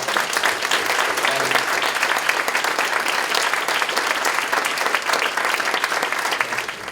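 Steady applause from an awards-ceremony audience for the parents, guardians and carers of young people, a dense even wash of many hands clapping throughout, fairly loud and unbroken.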